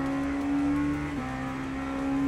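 An LMP2 prototype race car engine from the European Le Mans Series holds a high, steady whining drone in the Le Mans Ultimate racing game, with a brief dip partway before climbing back, heard alone without talk.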